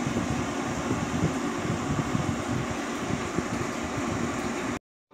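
A cooling fan on an AGS V3 solar inverter built for farm and plantation use runs at its second speed, a steady, fairly loud whooshing airflow hum that cuts off abruptly at the end.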